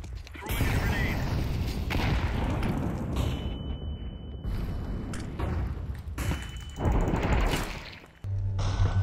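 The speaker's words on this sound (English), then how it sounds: "Fire in the hole. Throw your grenade." A grenade goes off in a Counter-Strike 2 round amid continuous gunfire and booming blasts, loud and close, with players shouting over the chaos.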